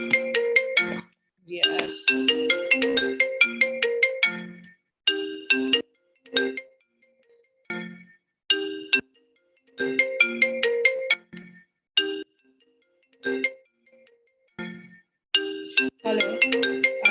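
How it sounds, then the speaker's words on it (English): A Skype call ringtone on a computer plays a repeating chiming melody in regular bursts separated by short silences, fairly clear and with almost no speech. "I don't know why this is ringing"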